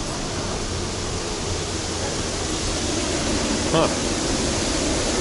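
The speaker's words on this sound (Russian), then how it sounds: "еще этот водопад делает перегрузку." The waterfall on Cheonggyecheon stream in Seoul gives a steady, loud, broadband rushing roar, with a brief voice heard once.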